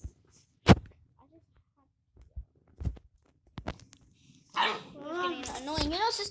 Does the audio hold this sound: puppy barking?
yes